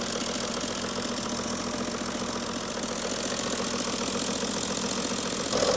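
A BMW E90 335d diesel car engine idles steadily with a low, even knocking rumble, close by, with no voices.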